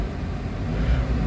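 A Toyota Avanza engine with low power and delayed throttle revs toward about 1,800 rpm, giving a steady, close, low rumble that swells slightly near the end, with no talk over it.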